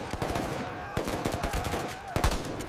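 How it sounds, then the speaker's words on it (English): Rapid bursts of gunfire crackle and pop in quick irregular volleys, sharp and dense, layered over a busy background. "The defenders fight with desperation, shouting orders, drowned by the roar of gunfire."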